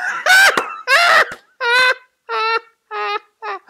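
A voice mimics a kitten with six drawn-out mewing cries, each shorter and softer than the first.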